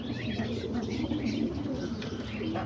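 Pigeons coo softly and steadily at close range, their low, rolling calls overlapping continuously, with faint chirps mixed in.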